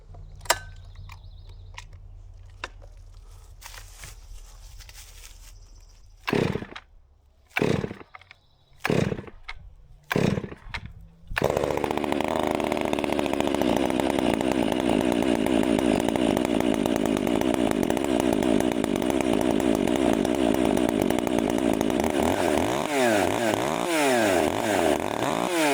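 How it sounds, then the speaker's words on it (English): A STIHL chainsaw idles unevenly at first with several sharp bursts and pauses, then settles into a loud, continuous high-revving buzz close by as it warms up before cutting a hardwood pile of oak and elm. "While that saw's warming up, we're going to be cutting in this hardwood pile here."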